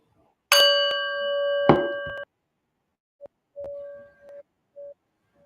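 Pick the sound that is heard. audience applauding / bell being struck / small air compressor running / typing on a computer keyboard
bell being struck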